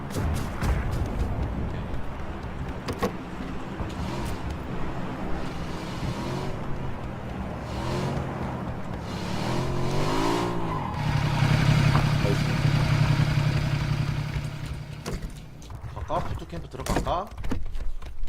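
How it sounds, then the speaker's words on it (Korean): A motorcycle engine drones steadily, rising in pitch as it revs, with game sounds and people talking over it throughout. "오토바이 타고 들어와"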